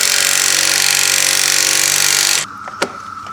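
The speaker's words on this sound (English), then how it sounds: "so now I got the impact on the end of the ball joint" Power tool whirring steadily on the front sway bar end link ball joint of a 2010 Lincoln MKT, running loud for about two seconds and then cutting off, followed by a single sharp metallic knock.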